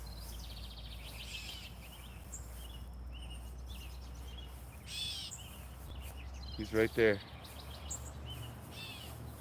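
A bird calls outdoors beside a garden, short chirps rising over steady background hiss while someone talks nearby.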